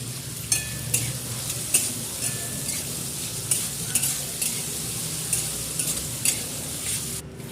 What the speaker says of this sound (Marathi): मिठामुळे टमॅटो चांगले भाजले जातात